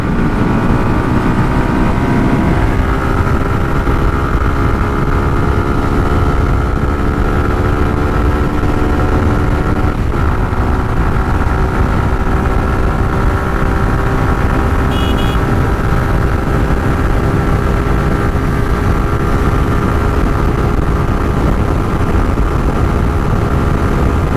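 A Suzuki Gixxer Monotone motorcycle pulls hard in fourth gear on an open road during a speed test, its loud engine drone climbing steadily in pitch over wind rush, with no voices.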